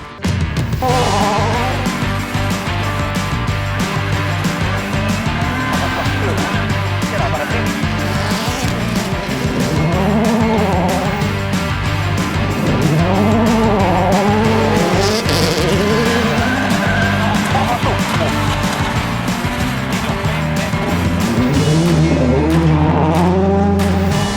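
A WRC rally car at Rally Portugal tearing along a gravel stage, its engine revving hard and rising and falling through repeated gear changes, with loud, close, continuous engine roar throughout.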